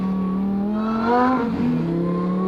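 A Lamborghini STO supercar with a supercharger idles with a strong, steady engine drone. It swells into a brief rev while its tires are warmed up, then settles back to a loud, close hum.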